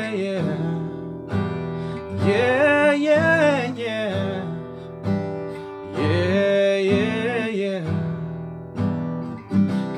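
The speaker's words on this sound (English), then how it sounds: "And that will sound like this with a single strum on each beat." Acoustic guitar struck with one strum on each beat while a voice sings along in a pop song; steady, evenly spaced chords under the singing.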